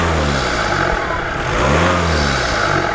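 A car engine revs up close, a loud rising and falling roar with a rough, throaty tone, heard alone.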